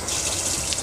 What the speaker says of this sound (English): So water pump's on.